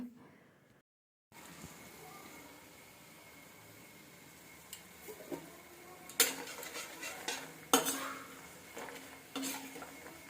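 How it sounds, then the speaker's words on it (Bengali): Kata nimki snacks fry in a small amount of reused oil with a soft, continuous sizzle, broken by scraping and clinking as a utensil stirs them against the pan. Clatters get louder toward the end. "এখানে কাটা নিমকি ভাজছি"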